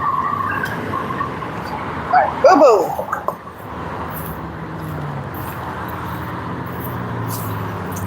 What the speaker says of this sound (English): Oh my God, traffic.